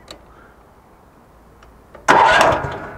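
An ATV engine cranks and fires near the end after quiet clicks, catching with a sudden loud burst that then settles into running, close by.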